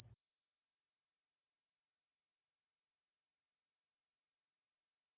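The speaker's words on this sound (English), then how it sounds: "with my modern computer, I can glissando through a whole range of different frequencies" Pure computer-generated sine tone sliding slowly and smoothly upward from a high whistle to a piercing, very high pitch, steady in loudness and alone.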